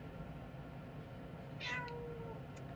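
A single short cat meow rises briefly over a steady low background hum, faint and somewhat distant.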